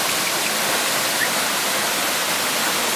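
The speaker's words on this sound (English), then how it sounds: "And then over there, it's the waterfall." Steady, dense roar of a waterfall beside a stream in Portugal, a broad unbroken wash of falling water filling the scene without pause, fairly loud and close.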